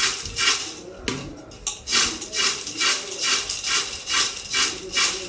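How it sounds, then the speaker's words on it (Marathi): A metal spoon scrapes and clinks against a kadhai in a steady repeating rhythm as makyacha chivda, a crisp corn snack, is tossed with masala, close and fairly loud with almost no voice. "शिल्लक राहिलेला तोही मसाला मी ॲड करते याच्यामध्ये आणि व्यवस्थित आपण हे मिक्स करून घेऊया"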